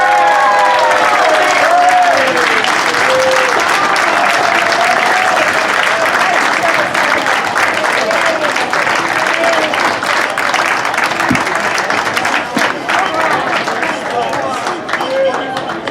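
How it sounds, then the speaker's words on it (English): Sustained audience applause at an outdoor Philippine community weekend celebration honoring grand marshals and a village crew, steady loud clapping with some cheering and crowd voices mixed in throughout. "a big round of applause, ladies and gentlemen"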